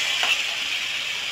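Snakehead fish being sautéed in spice paste in a pan, a steady soft sizzling hiss with a faint scrape near the start, close and quiet, no voices.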